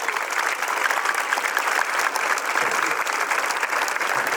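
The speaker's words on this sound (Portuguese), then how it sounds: "vamos aplaudir o Senhor" A church audience breaks into sustained applause, dense and steady clapping from a large crowd that holds even throughout.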